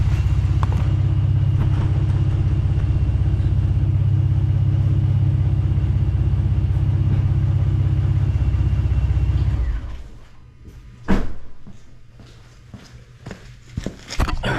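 Engine of a Gen 2 Ford Raptor truck idling with a steady, loud low rumble that cuts off after about ten seconds, leaving near silence broken by a few sharp clunks and light handling noises.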